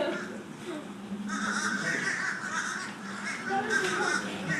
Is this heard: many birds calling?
yes